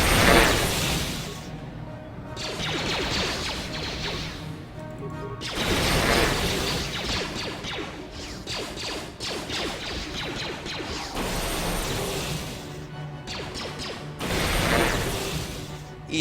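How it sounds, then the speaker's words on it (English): Droids blow up in the Star Wars Knights of the Old Republic video game, a dense run of crashing explosions and mechanical clatter that swells and fades in waves over steady game noise, no voices. "since we have Jolie here, I'm just going to use Destroy Droid on everything. And watch it all blow up"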